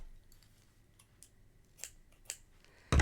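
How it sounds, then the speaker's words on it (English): Scissors snipping crochet yarn, a few quiet close clicks and two crisp cuts, followed by a louder thump at the end. "I can cut my yarn and tie off."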